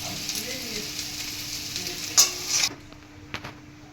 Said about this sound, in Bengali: এঁচোড়গুলো ভাজছি।